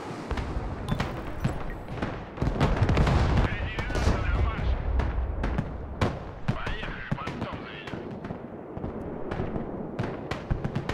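Artillery shells pound a tree line in the video game Broken Arrow, a rapid series of sharp, loud blasts and cracks in irregular rhythm, some overlapping into rumbling clusters, with heavier impacts near the middle.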